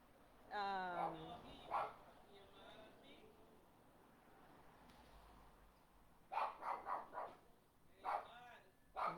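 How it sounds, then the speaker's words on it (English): A dog barks at a stranger outdoors, several loud clustered barks early, then two quick volleys later, some distance from a quieter background. "I'm outside and the dog is barking at a stranger."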